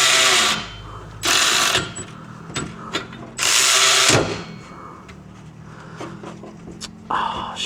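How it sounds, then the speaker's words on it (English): A socket wrench ratchets on car downpipe bolts during an aftermarket downpipe install, with several short, close, clicking bursts separated by pauses and small metallic knocks. "So now we just need to get a socket for that."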